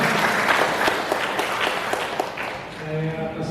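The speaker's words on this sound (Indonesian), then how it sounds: "Sekali lagi kita beri tepuk tangan yang meriah buat beliau." Audience applause at an Indonesian seminar on conflicts of interest, a dense broadband patter of many hands under a moderator's voice that then gives way to a brief tonal hum near the end.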